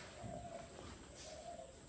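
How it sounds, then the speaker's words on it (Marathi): A pigeon coos softly near a home in a Konkan village, two faint low, rolling coos under quiet background noise. "गुळगुळ ते बघ आवाज होत त्याचा."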